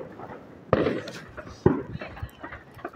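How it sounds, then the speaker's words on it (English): Two fireworks go off outdoors, each a sharp crack about a second apart, followed by crackling tails and faint people talking in the background. "There's literally two fireworks."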